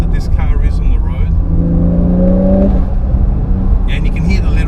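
Porsche 992 911 Carrera 4S with a bi-turbo engine, revved with a rising throttle blip that holds a droning pitch for about a second before falling away, heard close from inside the car under a speaking voice.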